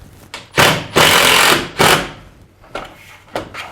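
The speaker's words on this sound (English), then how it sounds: "I'm going to grab those 4 smaller flathead screws and we'll put those in place" Short bursts of a power driver sinking small flathead screws into the plastic trim of a MaxxFan Deluxe roof vent on an enclosed trailer, several loud whirring pulses separated by brief pauses.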